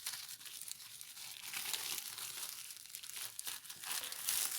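A plastic bag crinkles and rustles continuously as it is folded by hand, close and fairly quiet, with irregular crackling bursts and no talk.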